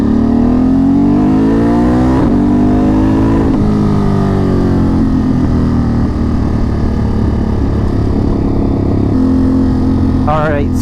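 A tuned Ducati Monster 937 motorcycle fitted with an MWR HP kit and RapidBike race module revs loud and close, its engine note climbing through rising pitch sweeps with brief drops between pulls.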